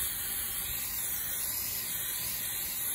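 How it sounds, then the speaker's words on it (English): Brake cleaner sprays from an aerosol can onto a Husqvarna 395XP chainsaw being degreased, a steady, close, forceful hiss lasting a few seconds without a break. "So we'll spray her down once more with brake cleaner"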